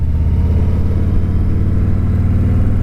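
Steady wind roar and low engine drone heard inside a helmet while riding a Harley-Davidson Road King on a cold day, continuous and loud with a throbbing low rumble and no voices.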